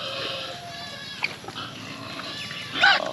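Piglets on a Philippine farm at feeding time grunt and squeal intermittently over steady background noise, with a louder squealing burst near the end.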